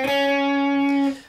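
An overdubbed electric guitar line from a song rings out as one sustained, slightly distorted note for about a second before fading quickly.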